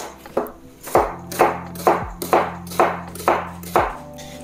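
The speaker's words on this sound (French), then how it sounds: "Je vais commencer par couper grossièrement mes oignons." Large onions roughly chopped with a knife on a cutting board, eight crisp evenly spaced chops close by, each a sharp thud with a short ringing tail.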